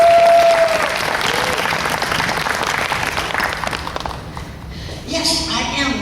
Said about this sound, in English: a lovely hand of applause to this lady